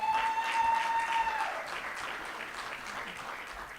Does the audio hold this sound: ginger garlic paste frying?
no